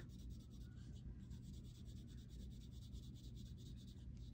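A Derwent Drawing pencil in Ivory Black scribbles on paper in steady, close back-and-forth scratchy strokes lasting several seconds, with no talking.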